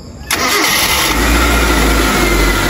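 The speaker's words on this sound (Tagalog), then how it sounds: "At papatry ko muna pa-start." A car engine cranks and catches after a servo replacement, settling into a steady, loud idle close by with a continuous low rumble.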